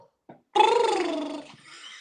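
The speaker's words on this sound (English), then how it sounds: "That's a pretty kitty." A cat meows once, a drawn-out, fairly loud and close call lasting about a second, preceded by a faint short chirp in an otherwise quiet room.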